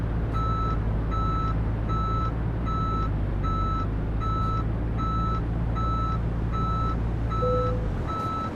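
A heavy truck backing a trailer into place in Euro Truck Simulator 2, its reversing alarm beeping in a steady, evenly spaced rhythm over a constant low engine drone, with one brief extra tone near the end before the engine cuts.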